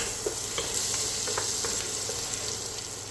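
Vegetables with onion and mushrooms sizzle in a pan while being stirred, a close, even frying hiss broken by light scraping ticks, with no voices.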